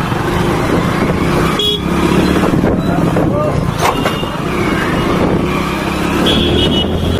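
Busy road traffic rumbles close by in a crowded Indian street as several car horns toot and honk intermittently, with voices heard faintly amid the noise.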